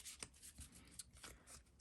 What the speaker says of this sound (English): let's turn them over so I'm not looking at them as I'm shuffling.